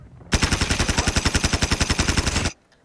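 Sustained automatic gunfire in the mobile shooter Call of Duty: Mobile, a rapid, evenly spaced burst of shots lasting a couple of seconds, loud and close, then cutting off abruptly.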